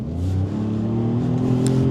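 A 2025 Ford Maverick Lobo pickup accelerates on a race track, its engine note climbing steadily and close up in a brief, continuous surge of power.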